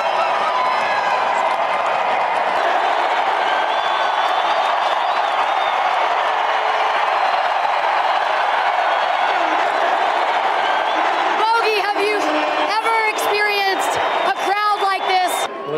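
A Utah Jazz home crowd roars at a basketball game after a water bottle celebration, with sustained dense cheering and applause throughout. A commentator's voice comes in near the end, over the noise.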